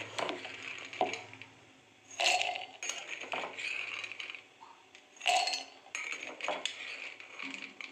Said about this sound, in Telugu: వీటిలో మనకు తగినంత పల్లీలు వేసుకోవాలి, కూరకి సరిపడా.